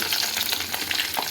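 Curry leaves fry in hot oil for a mushroom gravy, a loud close crackling sizzle with bright spitting pops throughout.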